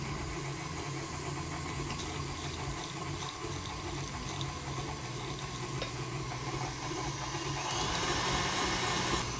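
An electric mixer runs steadily as eggs are added one at a time to a chocolate batter, a continuous loud motor whir with busy mixing noise that grows slightly brighter toward the end.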